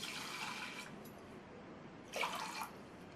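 Water poured from a cup into a pressure cooker holding drained, soaked basmati rice, a brief splashing pour fading in around the midpoint after a steady background of running water and hiss.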